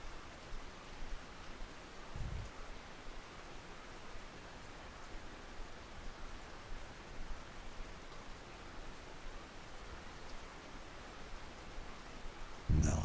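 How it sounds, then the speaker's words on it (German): Rain falls in the fishing game Russian Fishing 4. It is a soft, even hiss of drops that holds steady and quiet throughout, with one brief low thump near the start and another at the end. "Jetzt geht er aber los hier mit dem Regen"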